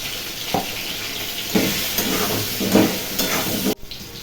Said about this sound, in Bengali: এই দেখুন আলুটা প্রায় ভাজা ভাজা হয়ে এসছে